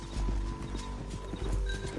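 Rhythmic hoofbeats of a horse moving at pace in the video game Red Dead Redemption 2, over a low rumble, with a brief neigh-like sound near the end.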